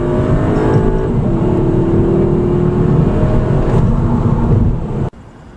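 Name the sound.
2015 VW Jetta GLI 2.0T turbo accelerating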